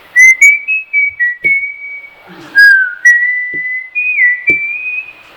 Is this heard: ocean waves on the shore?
no